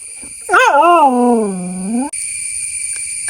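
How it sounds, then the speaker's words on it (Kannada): A house dog lets out one long, loud, wavering whimper close by. It rises and dips in pitch for about a second and a half, then cuts off into quiet. "ಇದು ನಮ್ಮನೆ ನಾಯಿ"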